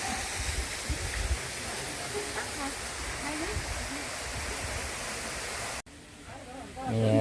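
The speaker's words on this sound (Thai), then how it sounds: "ด้านหน้าก็จะเป็นน้ำตก" A waterfall at Phu Dan Hai in Kalasin, Thailand, pours with a steady, broad rushing roar that drops away abruptly near the end, leaving quieter ambience.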